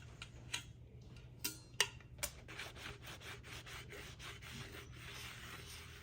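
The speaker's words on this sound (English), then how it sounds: "we're going to use a sanding block just to sand it smooth on the bottom" A sanding block rubs over the bottom of an epoxy-coated tumbler, giving a few sharp scraping ticks early on and then a steady quiet rasp, close up and with no voices.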